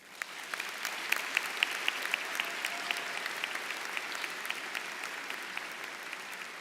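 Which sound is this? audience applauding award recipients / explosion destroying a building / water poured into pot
audience applauding award recipients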